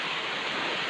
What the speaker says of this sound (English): it's a slow rain